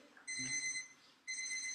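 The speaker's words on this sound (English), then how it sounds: "I hear the beep, beep, beep, beep, beep" An electronic timer beeps at a conference symposium, a steady high-pitched tone that sounds for about a second, pauses briefly, then resumes, loud and close with no talking.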